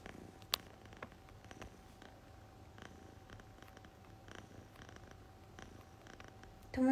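A Minuet cat, an Exotic Shorthair and Munchkin mix, purrs softly and steadily up close under faint room noise, with a few small clicks and a louder bump at the very end.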